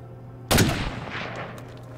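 A single loud gunshot bursts out with a sharp crack in the State of Decay 2 video game, followed by a decaying echo and a steady background hum.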